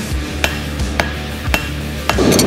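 A hammer strikes hot metal while a gaffstick is forged at a forge studio, landing four sharp, evenly spaced blows with no voices.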